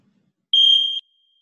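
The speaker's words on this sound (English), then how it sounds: "Ignore the buzzer." A single electronic buzzer sounds one steady, shrill half-second tone during an exercise class in an otherwise quiet room.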